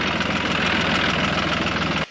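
A tractor engine idles close by with a steady, loud rumble and faint knocking pulse that cuts off abruptly near the end, on a free-range homestead farm.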